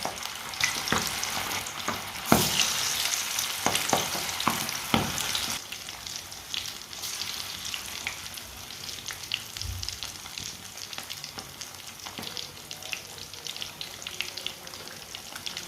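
Fish frying in hot oil over a stove flame, a steady close crackling sizzle that starts busy and loud, then settles into a softer continuous hiss, with no talking.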